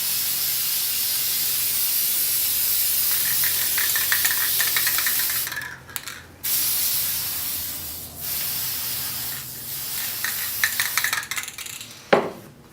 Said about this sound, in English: I'm just going to kind of go over this with spray paint to make it look a little bit more like the movie